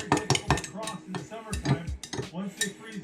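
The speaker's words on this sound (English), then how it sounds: "You want to give it a quick stir, make sure it's all still mixing together." Close clinking and scraping of a utensil against a bowl, rapid irregular knocks as a soft plastic lure mixture is stirred.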